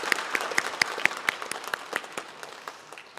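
Congregation applause in a church after a Sunday service, a fairly quiet, steady patter of many hands clapping with irregular sharper claps standing out, no talk over it.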